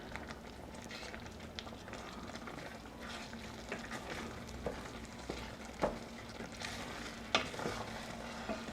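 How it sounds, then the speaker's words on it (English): A spoon stirs a pear cherry pie filling thickening with cornstarch in a hot pan, a steady soft bubbling sizzle with occasional scrapes and taps against the pot, quiet and continuous. "I'm adding in my cornstarch. And I'm just going to stir until it thickens up."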